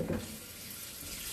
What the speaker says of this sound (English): I fill it up to about 6 cups worth of water